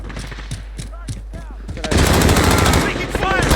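Automatic gunfire in the video game Call of Duty: Modern Warfare during a crossplay match: scattered sharp shots, then a loud, sustained rattling burst of rapid fire, close and dense, with a voice faintly in the background.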